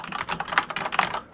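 Rapid keystrokes on a computer keyboard while setting up a live stream, a dense run of crisp clicks over about a second, close and on their own.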